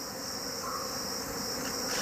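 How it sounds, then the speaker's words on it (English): Thousands of alarmed wild bees pour from a raided hive, a constant high insect drone that stays even and close, alone without speech. "he inches towards the first and largest of the hives, from which thousands of alarmed bees are swarming out"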